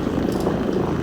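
A Mytee ECO14 Pro Lt encapsulation carpet cleaning machine runs on restaurant carpet, giving a loud, steady droning whir with a fluttery, rotor-like pulse throughout.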